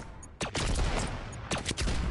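Rapid bursts of video-game gunfire in two loud clusters, the first starting just under half a second in and the second around one and a half seconds, with dense, sharp shot transients filling most of the stretch.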